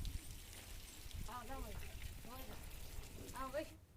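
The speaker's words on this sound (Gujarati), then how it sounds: "ગ્રામ્ય વિસ્તારોમાં ભારે પવન સાથે ધોધમાર વરસાદ પડ્યો।" Heavy rain with strong wind pours down over a rural village in Amreli, Gujarat, making a steady broadband hiss throughout while someone talks over it.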